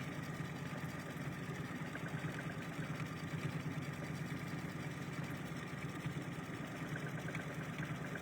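A sewing machine runs steadily, stitching through fabric with minky on one side during a hoop-based sewing session, a continuous mechanical whir with a fine rapid chatter, fairly quiet and unbroken, with no talking.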